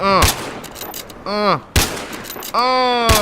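Scout rifle shots in Battlefield Hardline on PS4 ring out as four sharp, loud cracks spaced about a second apart, each trailed by a metallic ringing tail.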